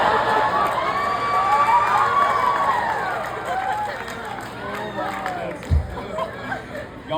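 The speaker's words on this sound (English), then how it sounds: "Y'all are wild for cheering for that." A comedy club audience cheers and whoops, a lively mix of shouts, laughter and high-pitched voices that swells loudly and then tapers off.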